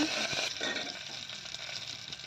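Dried red chillies sizzle in hot oil as a South Indian tempering for coconut ivy gourd curry, a steady close crackling fry with faint stirring and no talk.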